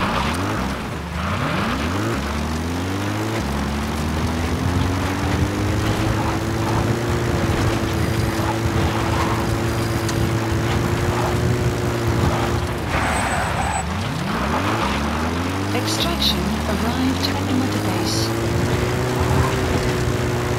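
A support helicopter arriving for extraction in the video game Metal Gear Solid V: the rotor thumps steadily and loudly, engine pitch rising and sliding as it approaches, with a second swell of rotor noise later on.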